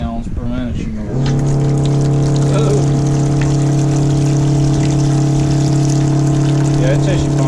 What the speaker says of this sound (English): Just let it run, drain it into a bucket, and I'm gonna see what the pump pressure's like on this.